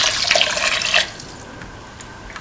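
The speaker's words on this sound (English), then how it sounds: "Pour in 250 ml of water" About 250 ml of water is poured into a cooking pot of curried cauliflower rice with split chickpeas. A loud, close splashing pour lasts about a second, then tapers to a quieter trickle.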